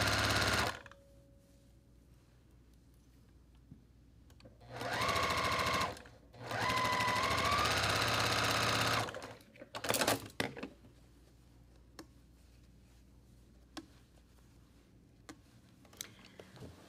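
A sewing machine stitches fabric at a 1.5 stitch length in two steady bursts of a few seconds each, close and fairly loud, followed by quieter clicks and handling noises.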